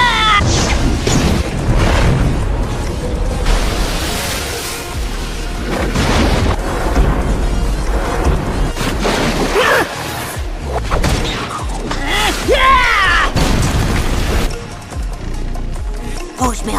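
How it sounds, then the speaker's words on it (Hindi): Fiery jutsu explosion from a Naruto anime battle, heard as a sustained roaring, crashing blast with repeated heavy booms and thuds across the whole stretch, loud and dense with no voices over it. "Fire style fire ball jutsu."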